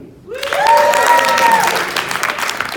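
Audience applause at a fan convention, swelling quickly into dense clapping that holds steady, with a tonal voice or whoop riding above it, then tapering slightly toward the end.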